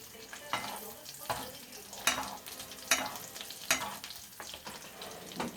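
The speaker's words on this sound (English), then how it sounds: "I'm going to let the heat of the butter and the residual heat from the skillet to continue to cook my salmon" Skin-on salmon frying in butter in a hot skillet, giving a steady close sizzle broken by several sharp crackling bursts and spatters at irregular intervals, with no talking.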